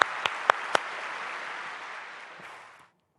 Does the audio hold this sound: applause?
yes